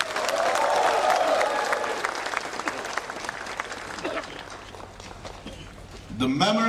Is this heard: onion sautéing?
no